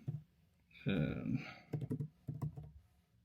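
Close computer keyboard typing in short bursts of clicks, interrupted by a person speaking briefly in the middle.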